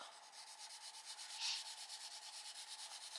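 A colouring pencil rubbing back and forth on paper while laying down colour, a faint rhythmic scratchy stroking repeated steadily at close range.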